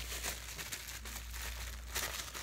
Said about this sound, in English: one of the papers in there is a little crinkly